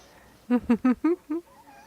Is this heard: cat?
yes